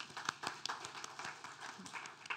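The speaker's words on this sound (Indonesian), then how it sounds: "Tepuk tangan juga." A church congregation claps for a couple's 50th wedding anniversary, scattered soft hand claps heard faint and distant, with no clear talk over them.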